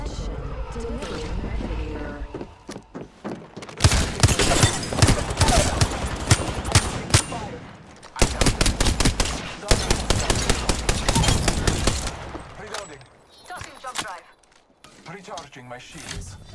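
Rapid automatic gunfire in a shooter video game, dense and loud in two long sustained bursts with scattered single shots before and after, while a voice talks in between.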